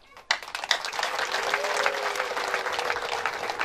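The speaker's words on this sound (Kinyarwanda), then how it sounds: "baguha amashyi menshi n'impundu bose bashimire" Wedding guests break into loud, sustained applause with high ululation trills rising over the clapping, a dense crowd sound that starts abruptly and continues throughout.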